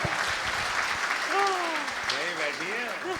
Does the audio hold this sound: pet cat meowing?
no